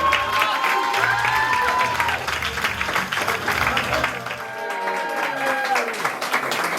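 Wedding guests applaud and cheer during a DJ's table announcements, a sustained wash of clapping mixed with shouts and whoops, with music or voices running underneath throughout.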